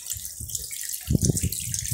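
Kitchen tap water runs into a sink while cut chicken pieces are washed, a steady hiss with splashing bursts as the meat moves under the stream, close and alone without talk.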